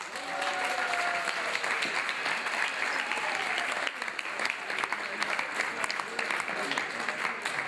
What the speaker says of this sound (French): Allez, applaudissez très fort.